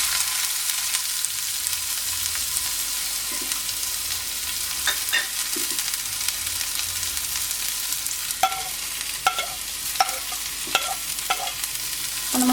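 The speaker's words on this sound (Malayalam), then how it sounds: "അപ്പോൾ ഞാൻ ആദ്യം സവാള ഇടുകയാണ്." Sliced onion frying in hot oil for a Kerala-style chicken keema sandwich fills the pan with a dense, even hiss, and scattered spoon taps and scrapes grow more frequent toward the end.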